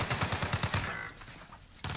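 Rapid burst of video-game gunfire in Warzone, about a dozen sharp close shots in quick rhythm over a second, then fading into a brief lull before another hit.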